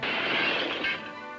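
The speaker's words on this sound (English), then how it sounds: "As a stone smashed the window" A stone smashes through a glass window, giving one loud, bright crash with shattering glass that rings out briefly before fading, with no voices.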